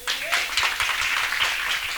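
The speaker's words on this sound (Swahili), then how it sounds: "Unaweza ukapiga makofi mazuri?" A gospel celebration crowd claps in a hall, a brief burst of dense, fairly loud applause from many hands with some voices mixed in.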